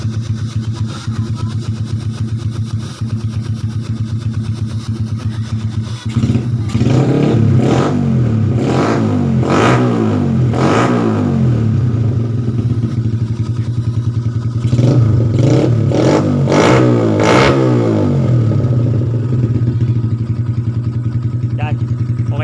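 A Yamaha Sniper 150cc motorcycle engine, rebuilt with a 57mm block, cam and racing CDI, runs with the silencer removed, idling loudly then revving repeatedly in bursts, close by, with voices talking over it.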